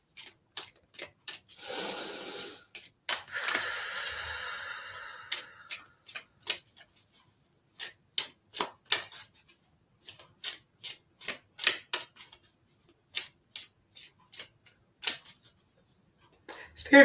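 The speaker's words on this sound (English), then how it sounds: "as I was shuffling the angel answer cards" Angel answer cards are shuffled by hand: a brief riffling burst, then a run of light, crisp taps and flicks in irregular rhythm, close and fairly quiet against a silent background.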